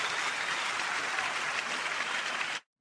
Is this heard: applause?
yes